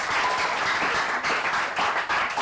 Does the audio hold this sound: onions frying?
no